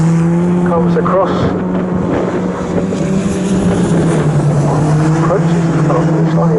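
Historic Formula Ford race cars at Snetterton circuit, engines droning loudly and steadily as they pass on track, with a race commentator talking over the noise throughout.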